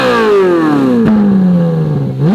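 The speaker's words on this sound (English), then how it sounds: "this is what the Ferrari 458 sounded like bone stock" A stock Ferrari 458 engine revs hard alone and up close, its pitch sliding down steadily as the revs fall, then climbing sharply again right at the end.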